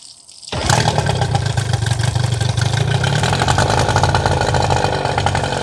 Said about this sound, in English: So now that it's warmed up, we could do the one pull start on this. And then it just starts right up now that it's warm.